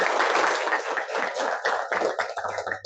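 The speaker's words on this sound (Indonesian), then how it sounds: "tepuk tangan untuk Nabila." Classmates in a classroom clap for a student in a brief, moderately loud patter of applause from a small group. It thins out and fades toward the end.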